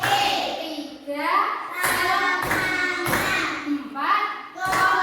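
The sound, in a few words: rhythmic hand clapping, clap-four concentration game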